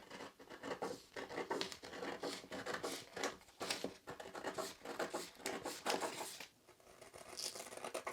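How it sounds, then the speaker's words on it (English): Paper sleeve cap pattern being cut out with scissors, a steady run of close crisp snips and rustling paper that keeps up almost without a break. "Next, we're going to cut our sleeve cap."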